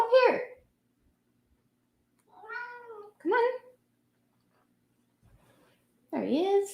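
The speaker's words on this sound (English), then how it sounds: "There he is. That's my kitty." A pet cat meows several times in short, close calls separated by quiet gaps, with a person speaking briefly between them.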